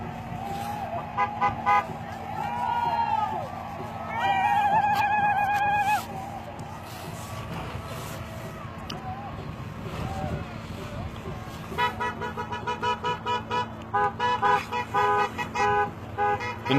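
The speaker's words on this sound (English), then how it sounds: "The noise you hear is people going back in cars for medical" Car horns honk in repeated bursts and long toots as vehicles try to clear a road near a protest camp, with engines running under the honking and a rapid string of short beeps near the end.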